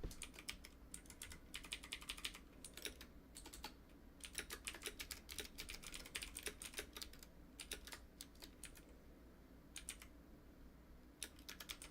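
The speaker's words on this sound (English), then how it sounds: "So I'm typing up the message to him now." Rapid clicking of fingers typing on a computer keyboard, close and steady, in uneven bursts with short pauses between runs of keystrokes, with no voices.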